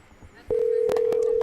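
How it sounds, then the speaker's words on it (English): A phone call placed during a live stream sounds a steady, continuous electronic tone that starts abruptly and holds loud and unbroken, with brief talk around it. "So one more call here to the man they call Dieter, and we'll see who answers the phone on the other end here."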